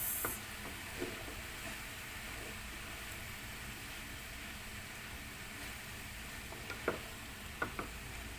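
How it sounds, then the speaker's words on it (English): Vegetable fried rice with kikiam and egg is stirred in a pan, giving a steady soft sizzle and hiss at low level with occasional scraping clicks near the end and no talking. "As well as for the kikiam and egg. And just give a good mix."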